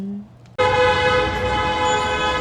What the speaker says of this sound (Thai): ออกมาจากโรงแรมแล้วก็เสียงแตร ดังเลยจ้ะ